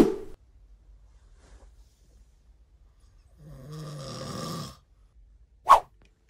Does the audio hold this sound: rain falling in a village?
no